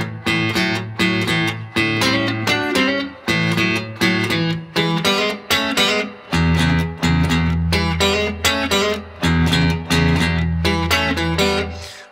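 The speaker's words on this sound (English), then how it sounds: "Okay, lick three sounds like this." Electric guitar with P90 pickups plays a slow blues lick, with clear, rhythmic plucked notes and chords repeating in phrases, played alone and up close with no talking.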